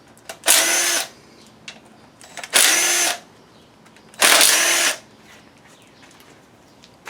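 A power tool runs in three short loud bursts of about half a second each, spaced by quiet pauses, while loosening bolts on a 2007 Chevy 5.3 engine during a rebuild.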